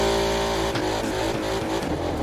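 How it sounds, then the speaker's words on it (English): A Volkswagen SUV engine in the racing game The Crew 2 revs loudly and steadily, a dense, throaty roar with rising and falling pitch and brief dips like gear shifts. "Holy crap, does that sound like a ridiculous engine in there."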